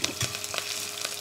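A red chili and green chilies sizzle and fry in hot oil, a soft steady crackle with a few brief louder pops and no talking.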